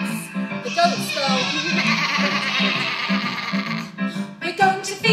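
A person's voice imitates a goat's bleat in a children's music session, giving a loud, close, sustained wavering bleat followed by a few short voiced bursts.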